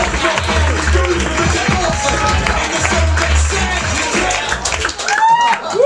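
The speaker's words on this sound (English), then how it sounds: "clap it up again for Mike Vecchione and Geno Bisconte" Audience applause and cheering at a live comedy roast, a dense, steady wash of clapping filling the room for several seconds before thinning out, with voices mixed in.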